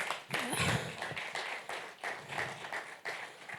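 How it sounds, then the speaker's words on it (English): Round of applause from a seated audience at a tourism, arts and culture event, several loose claps spread through the hall with a brief voice near the start. "Can we give another round of applause?"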